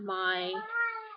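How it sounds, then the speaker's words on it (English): A male cat meows insistently, apparently for food, in two drawn-out, whining calls close to the listener, the first louder and sliding down in pitch, the second rising briefly before fading. "that's the cat who's deciding he needs more food."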